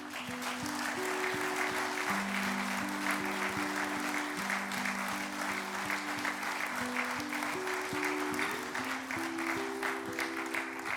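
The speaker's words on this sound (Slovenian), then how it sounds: "Tudi njemu v čast naklonimo velik aplavz." Sustained applause from an audience at a table tennis club's 70th anniversary ceremony, even and continuous, with music playing underneath the clapping.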